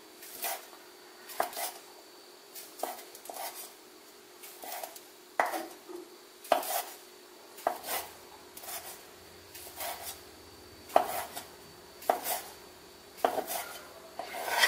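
A knife slices fried sausage into small rounds on a board, with soft, evenly spaced cuts about once a second, close by and quiet with no talk.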